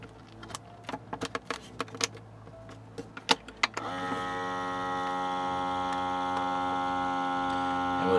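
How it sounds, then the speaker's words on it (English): Vacuum sealer clamping and pumping a bag of flour: a few scattered clicks and rattles of the lid and bag, then a loud steady motor hum that runs unbroken to the end. "we'll go ahead and vacuum seal"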